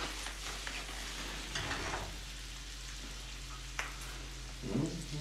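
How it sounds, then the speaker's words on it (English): Bacon frying and rendering in a pan for pasta carbonara, a steady close sizzle and crackle with soft spits and occasional louder pops, no talking. "I'm just sitting here waiting for bacon to render"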